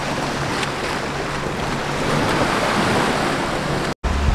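Ocean surf washes over a rocky beach beneath a cliff, a loud, steady wash of broadband noise with wind buffeting the microphone, ending in a brief dropout near the close.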